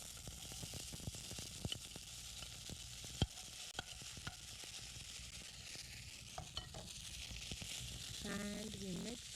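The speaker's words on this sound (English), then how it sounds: "So mustard seeds are popping, urad is turning golden, and the red pepper, I hope you can hear the popping sound." Mustard seeds, urad dal and red pepper crackle in hot oil, with scattered sharp pops over a faint, continuous frying hiss, quiet and close.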